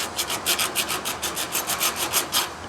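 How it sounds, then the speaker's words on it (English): A round metal file rasping back and forth around a groove to take off a bevel edge while modifying a car, about a dozen quick, even strokes, close and fairly loud with no talk. "take your round file and just go right around that groove with the round file"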